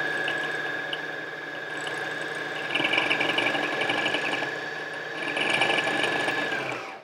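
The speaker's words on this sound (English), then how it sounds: "This 50 weight takes a long time to fill a bobbin." A sewing machine winds a bobbin with 50 weight thread for quilting, a steady high motor whine running throughout at close range, swelling slightly louder twice.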